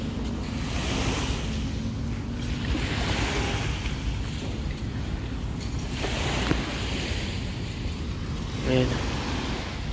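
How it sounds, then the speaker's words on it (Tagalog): Strong waves break on the Manila Bay shore with a continuous rolling surf roar and gusts of wind buffeting the microphone, while a voice talks over it. "malakas pa yung alon guys"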